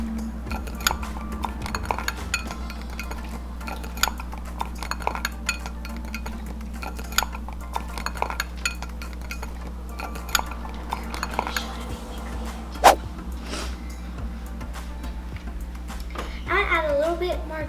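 Glow-in-the-dark slime being stirred with glue and activator, heard as repeated clinks and scrapes of a utensil against a bowl over a steady background hum, with a person talking throughout.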